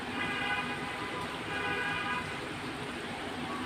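Rain falls steadily outdoors over rooftops in Dhaka, an even, continuous hiss of moderate loudness with no pauses.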